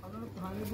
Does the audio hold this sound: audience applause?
no